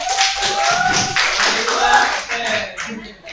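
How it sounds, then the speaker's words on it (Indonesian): A classroom of students clapping for a presenting group, a short burst of close, uneven hand claps mixed with chatter and voices. "tepuk tangan untuk kelompok 1"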